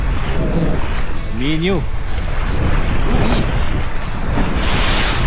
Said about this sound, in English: No engine, no noise, just the waves, the wind